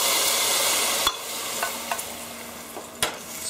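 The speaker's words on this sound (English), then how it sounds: "Stir them in really well" Spices and herbs are stirred into a pot of boiling rice and dal, producing a close, bubbling wash of sound with a few sharp spoon scrapes and knocks against the pot.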